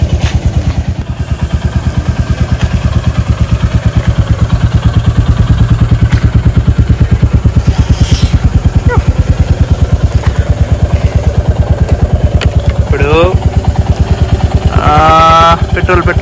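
A Royal Enfield motorcycle idles just after a service, its engine thumping loudly and steadily in a regular beat from close by, with faint voices over it near the end.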